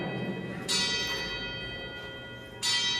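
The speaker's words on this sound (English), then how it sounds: "Okay, this is the bell." A bell rings twice, clear and fairly close, each strike followed by a long shimmering decay over a faint background hum.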